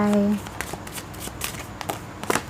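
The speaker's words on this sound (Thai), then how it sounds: "หมอขอสับไพ่ให้คนโสดนะคะสิบใบ" Tarot cards being shuffled by hand, a quick run of soft riffling flicks and papery rustles close up, following a brief voiced tone at the start.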